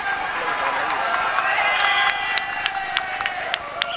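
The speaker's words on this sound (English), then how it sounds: "Just seeing through the crowd there." A crowd cheering at the 1995 mountain bike downhill world championship in Kirchzarten, a steady roar of spectators with sharp whistles and shouts rising over it, while a commentator speaks throughout.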